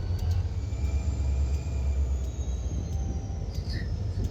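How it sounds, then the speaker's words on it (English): Two ex-Union Pacific SD40-2 diesel locomotives rumble steadily nearby, a continuous low throbbing engine drone with no talking. "These two locomotives we have in front of us are ex-Union Pacific SD40-2s."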